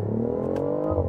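BMW i8 plug-in hybrid coupe launching from 0 to 60 in sport mode: a loud, smooth engine drone climbs steadily in pitch, heard from inside the car.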